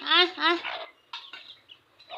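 A few close chicken clucks and calls in quick succession, nasal and harmonic, separated by short quiet gaps.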